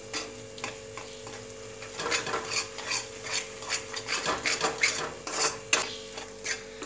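A spoon stirs cream into lauki kofta gravy in a pan, giving steady repeated scraping and soft clinks at close range over a faint background hum.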